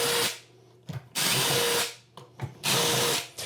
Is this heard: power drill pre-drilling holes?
yes